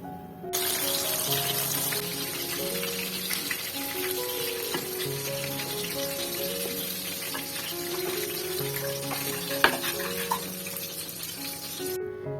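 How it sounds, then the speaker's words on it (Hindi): Frozen raw chicken mince kebabs fry in hot oil, giving a steady, close hiss and bubble of sizzling that runs unbroken, with soft melodic music playing underneath. "आप उसको बस निकालें फ्रीजर से और तेल में डाल करके फ्राई कर लें"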